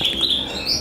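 A canary in a breeding house gives a few quick, high chirps, light and fairly close, against a soft room hum.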